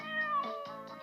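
A cat meows close and clear in one drawn-out, wavering cry followed by a second shorter call, alone with no talking.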